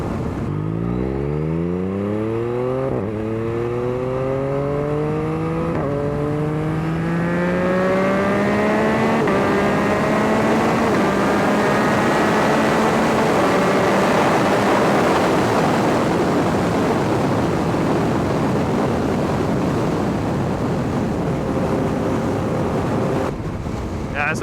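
A 2021 Yamaha MT-09 motorcycle ridden at speed on a hot day, its engine note climbing through several gear changes under constant heavy wind rush, loud and close throughout.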